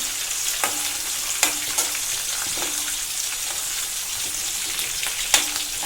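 Cinnamon sizzling in hot oil as the base for a Kerala chickpea curry, a steady bright crackle with several sharp pops and spatters scattered throughout, fairly close and no voices.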